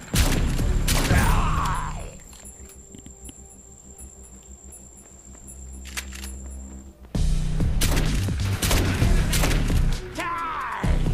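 Soldiers firing on mutants in a video game: bursts of gunfire and heavy thuds come loud and dense for about two seconds, drop to a low mechanical hum, then return in a second sustained barrage.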